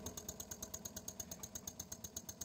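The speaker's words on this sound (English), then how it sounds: "this is an oscillating steam engine that I built when I was about 15 or so." A small homemade oscillating steam engine runs at a quick, steady pace, giving off a regular train of sharp chuffs, about six each second, at low volume.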